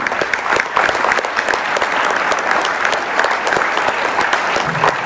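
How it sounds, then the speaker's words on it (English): Loud, sustained applause from a large crowd at a Hot Wheels convention, with dense overlapping claps filling the room throughout and no clear speech. "So a round of applause to all of you folks."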